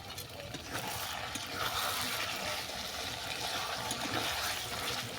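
Warm water is poured into a mango chicken curry, and a steady, splashy watery rush runs the whole time with no talk over it.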